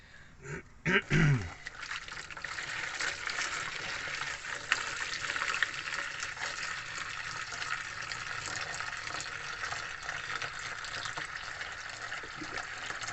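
Water poured from a jug down the sink drain of a Jayco caravan, a brief splash at the start followed by a sustained gushing, gurgling flow close by.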